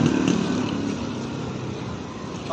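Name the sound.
misfiring motorcycle engine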